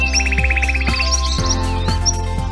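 Songbirds sing on open Ardennes heathland, where common whitethroat and tree pipit breed. Bright trilled phrases and chirps come close and clear over a steady low hum.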